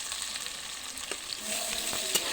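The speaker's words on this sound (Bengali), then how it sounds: "পেঁয়াজটাকে আমি হালকা একটু ভেজে নেব বাদামি রং করে।" Chopped onion fries in a pan for pulao, a close, continuous soft sizzle with a few light stirring scrapes and occasional pops, no voices.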